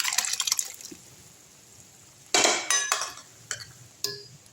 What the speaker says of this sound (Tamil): அந்த பருப்பு எடுத்து இதில் ஊற்றிடலாம்